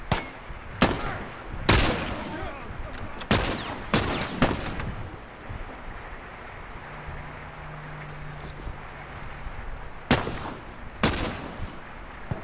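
Sharp gunshots crack out in The Last of Us, several loud isolated bursts spaced irregularly with a pair close together near the end, over a low steady ambient bed with no talk.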